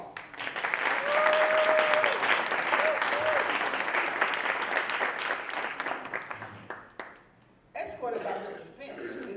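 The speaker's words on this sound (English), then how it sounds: "So I want you to welcome her with a round of applause." Audience applause for a woman being welcomed at a Mother of the Year event, a full dense round of clapping that fades after about seven seconds as a voice begins speaking.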